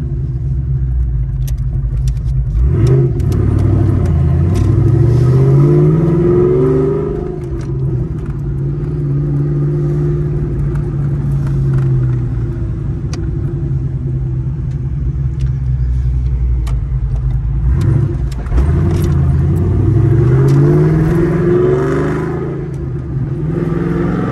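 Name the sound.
Dodge Magnum car accelerating and shifting gears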